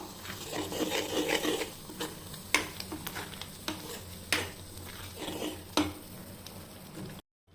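A spoon scrapes and stirs grated coconut into a snake gourd and lentil dish in a metal pot, with soft rasping strokes and several sharp clinks against the rim, close by.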